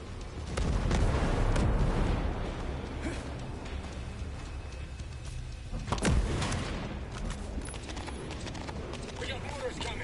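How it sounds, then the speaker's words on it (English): Heavy booms and impacts of incoming mortar fire erupt in the Ghost Recon Breakpoint video game, with one sharp blast standing out amid dense battlefield rumble while voices talk over the action. "We got mortars coming."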